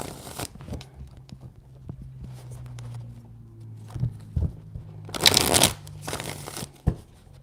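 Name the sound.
shuffling tarot cards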